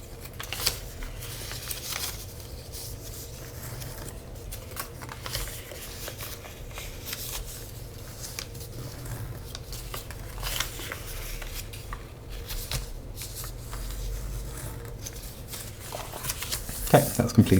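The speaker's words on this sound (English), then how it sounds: "What we're going to do is actually fold it right across and reinforce it." Paper rustles and crinkles as it is folded and creased into an origami Kawasaki rose, close, soft scratchy handling sounds recurring throughout with a few sharper crisp presses near the end.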